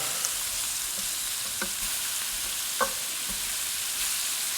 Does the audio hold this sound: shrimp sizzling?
yes